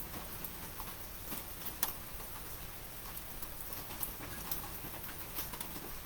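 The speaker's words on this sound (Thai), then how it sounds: "ตอนดึกแล้วฝนตกอยู่ตอนนี้ฝนตกข้างนอกฝนตก" Light rain falling outside late at night, a steady soft patter with scattered faint drips and taps, distant and quiet throughout with no talk.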